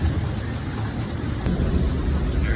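Heavy rain in an Oklahoma spring thunderstorm, falling at about three-quarters of an inch per hour as a loud, continuous, close roar and hiss with a low rumble underneath.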